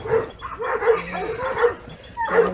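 A dog gives several short barks and yips in a steady run, close by and fairly loud, with a faint whimpering edge and no talk over it.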